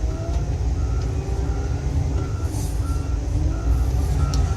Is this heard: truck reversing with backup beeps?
yes